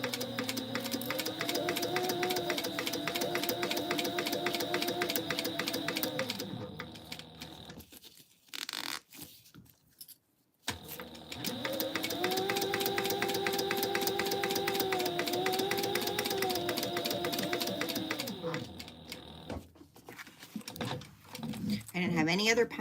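Domestic sewing machine stitching fabric for a tote bag, starting with a back stitch: a rapid steady mechanical chatter in two long runs broken by a short pause, with quiet rustling of cloth.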